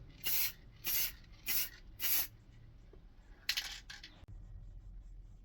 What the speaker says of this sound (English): we've sprayed the full piece black